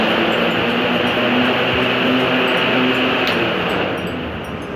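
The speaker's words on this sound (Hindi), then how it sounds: "पहले मैं आपको पंखा चेक करवाता हूँ।" The fan of a homemade 12-volt DC air cooler runs steadily with a loud, even whooshing hum and a faint motor whine, with no talking, tapering off slightly at the end.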